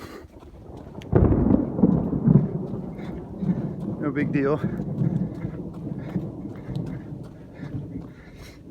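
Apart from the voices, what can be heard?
thunder from nearby lightning strikes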